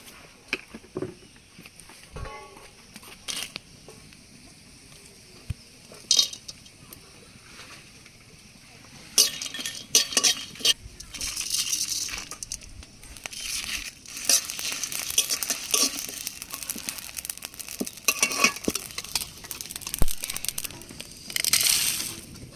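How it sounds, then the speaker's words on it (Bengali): Spices for onion pakora fry in a pan, quiet at first, then louder crackling and scraping stirring strokes at close range for the second half. "প্রথমে মশলাগুলো ভেজে নেবো"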